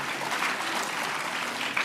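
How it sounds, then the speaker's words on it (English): A large audience at a national student showcase applauds the presenting student teams, dense continuous clapping at an even level throughout the short stretch. "How about another big round of applause for all of our students and all of our teams that presented today."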